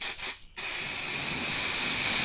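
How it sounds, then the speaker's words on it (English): A spray gun hisses steadily as it coats an automotive part with paint, with a brief break near the start before a continuous loud spray that runs on alone. "We're going to go and spray her down."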